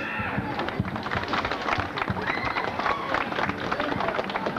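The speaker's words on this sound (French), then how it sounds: "Je demande de les applaudir encore, ils le méritent tous." A crowd at the inauguration of a bread oven applauds, dense continuous clapping with murmuring voices and babble throughout, fairly close and steady in level.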